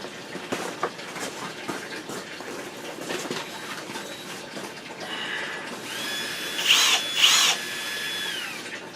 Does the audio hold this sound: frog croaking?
no